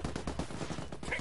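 Rapid gunfire in the Ghost Recon video game, a fast string of distinct shots in rhythmic bursts, loud and close, with voices talking underneath.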